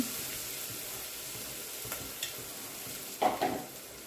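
Ginger garlic paste frying in oil, a soft, steady sizzle with a few short scraping stirs near the end, fairly faint and with no talking.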